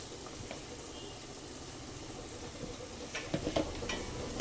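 Drumstick (moringa) pieces fry in a pan with chili powder for sambar, giving a quiet, steady sizzle with a few louder scraping stirs toward the end.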